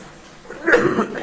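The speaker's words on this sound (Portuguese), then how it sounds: "Eu ainda não fiquei bom da tosse." A single close, loud cough bursts out abruptly after a short quiet lead-in, with a brief throaty, chuckle-like tail.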